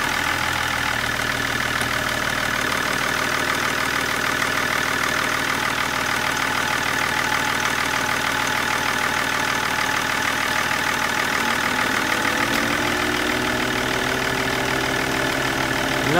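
A car engine runs steadily at idle during a gearbox purge, a continuous mid-pitched drone with a faint knocking texture and a slight pitch shift near the end, with no talking.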